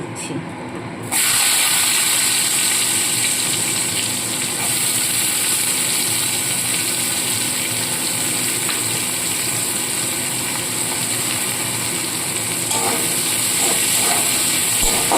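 Chopped onion and tomato hit hot oil seasoned with cumin and dried red chilli, giving a loud, steady sizzling hiss that starts abruptly and continues throughout.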